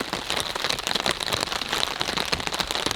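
Heavy rain drums loudly and steadily on a tent tarp in a pine forest, a dense continuous patter of drops with no pause.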